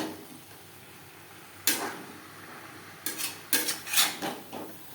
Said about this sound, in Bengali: মশলার সাথে আলু ও এঁচড় তিন চার মিনিট নাড়াচাড়া করে নেব